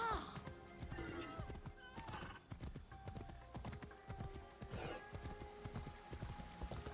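A horse in the Assassin's Creed Shadows video game trots with clear repeated hoofbeats and lets out a neigh, with light rain pattering and a voice speaking briefly over it.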